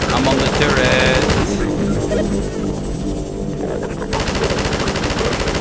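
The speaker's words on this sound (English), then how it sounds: "I'm standing this far away from the turret and I still can fire" A mounted turret machine gun in Half-Life 2 hammers out long, loud, continuous bursts, pauses briefly for quieter background noise, then resumes its rapid rattling fire up close.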